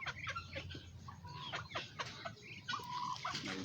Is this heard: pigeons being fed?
yes